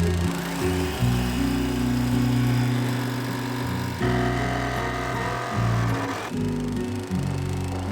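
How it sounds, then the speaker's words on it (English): A jigsaw cuts holes through the body of a 2022 Mercedes Sprinter 4x4 van, a steady loud buzzing motor with a few brief pauses and restarts, close by with no talking. "So I think we're just going to have to do it with a jigsaw."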